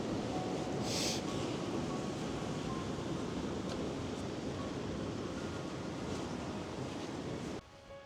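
Fast, forceful river rushing down a Highland valley, a steady broadband roar of churning water with wind across the microphone, continuous and close, cutting off sharply near the end.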